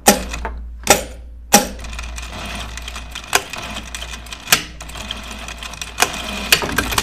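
A sewing machine stitching down part of a coat near the bobbin side, running in short close bursts with sharp clicks and brief pauses between runs.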